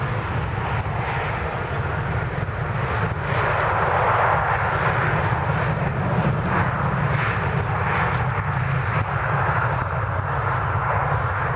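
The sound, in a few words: airplane taking off at Manchester Airport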